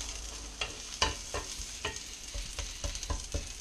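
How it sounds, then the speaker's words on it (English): Onions frying in a pan, a soft steady sizzle broken by several sharp scraping stirs at irregular intervals, close and fairly quiet with no voices. "and as you see, when they start to fry, the layers will start to separate."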